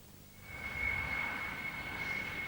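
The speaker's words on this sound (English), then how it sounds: "This was the British Midland 737 arriving at Heathrow Airport yesterday afternoon" A British Midland Boeing 737 arriving at Heathrow Airport gives a distant jet engine roar with a thin high whine, swelling slightly and holding steady over a couple of seconds.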